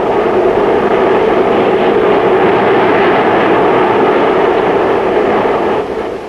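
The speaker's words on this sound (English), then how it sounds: "the huge craft was soaring over the wintry Indiana landscape" Lockheed L-188A Electra turboprop airliner in flight over a wintry Indiana landscape in 1960, heard as a loud, steady, broadband engine roar that holds constant throughout and fades slightly at the very end.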